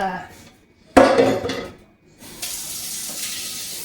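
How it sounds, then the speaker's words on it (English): Kitchen tap water gushing into a pot while making cheese grits, starting with a loud splashing burst, pausing, then a steadier hissing stream filling the container, close by. "I'm going to fill that up with water."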